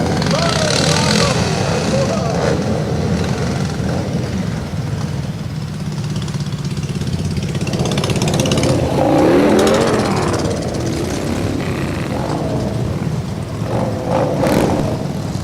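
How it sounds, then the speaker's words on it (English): Motorcycles of the Roughnecks Motorcycle Club rumble past in Knoxville's Veterans Day parade, a continuous loud engine drone with revving swells, heard under a commentator talking. "I think that's the Roughnecks Motorcycle Club."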